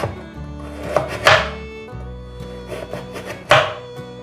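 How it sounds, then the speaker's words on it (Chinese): A peeled carrot being sliced with a knife on a cutting board, a few scattered soft thunks and cuts with gaps between them, close up, over a steady low background hum. "把红萝卜切片"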